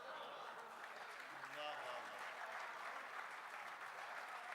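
A live mushaira audience at a poetry recital honouring Jagjit Singh keeps up steady, dense applause, while a voice briefly speaks over the clapping.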